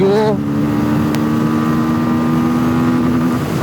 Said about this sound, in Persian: بریم گیری بوکس هم یه تست بکنیم و یه تاپ اسپید هم باهاش بزنیم